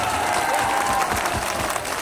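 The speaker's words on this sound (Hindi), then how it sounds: "ताली बजा दिए" An audience at a Bihar political rally in Begusarai claps steadily, a dense, loud wash of applause filling the whole moment with no break.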